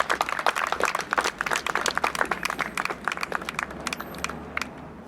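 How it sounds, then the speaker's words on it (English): Audience clapping at a building groundbreaking ceremony on South Avenue, a loose scatter of individual claps that is strong at first and thins out toward the end. "So this is a great thing, and you can clap for that."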